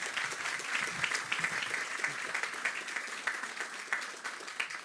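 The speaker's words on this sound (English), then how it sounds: "So if you could just give yourselves a round of applause," A crowd at a Pawtucket High School groundbreaking ceremony applauds with sustained, even clapping from many hands, moderately distant and without pause.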